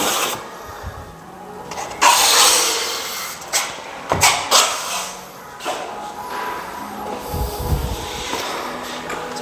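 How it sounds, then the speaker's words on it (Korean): A train rumbles past with rattling wagons and metallic clatter, loud and close, its rolling noise swelling and fading in waves for several seconds. "열차가."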